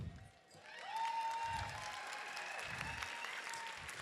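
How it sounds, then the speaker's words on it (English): Steady applause fills a room at an ALS community tribute to Dr. Kimberly Goslin, many hands clapping at moderate distance with a faint whoop or two, fairly quiet overall. "Clap louder, because she hates the attention."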